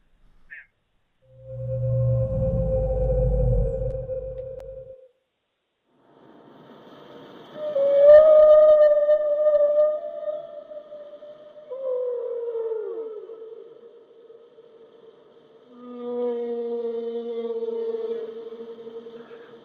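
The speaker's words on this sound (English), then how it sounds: "it is whale song. AI-enhanced whale music." AI-enhanced whale song with long, mournful tonal calls that rise, hold and bend downward, separated by short silences, with no talk.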